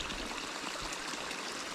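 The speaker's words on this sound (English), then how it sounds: "I thought this was a pretty neat little creek." A small creek along a mountain hiking trail flows steadily nearby, a continuous rushing, trickling wash of water with no voices.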